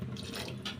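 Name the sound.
pouring water into egg manchurian gravy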